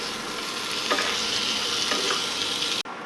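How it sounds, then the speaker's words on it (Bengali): Boiled, peeled potatoes seasoned with a little salt sizzle steadily in hot oil in a wok, a continuous close frying hiss with faint stirring scrapes, cutting off abruptly near the end. "সেই আলুগুলো একটু ভেজে নেব"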